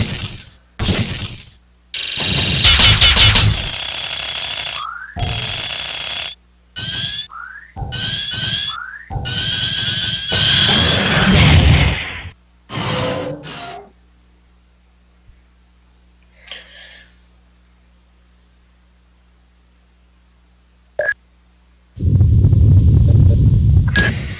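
LCV blasters and annihilators fire in Missionforce Cyberstorm, a rapid series of loud, sharp energy bursts with rising whining tones, grouped in volleys over about twelve seconds, then near silence with faint blips before another loud burst.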